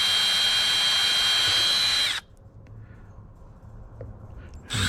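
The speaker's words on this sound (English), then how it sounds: "I'm literally just screwing in the center of one." A screw gun drives a screw into a wooden garden fence board, its motor whining steadily for about two seconds and then stopping, followed by quiet and a brief second burst at the end.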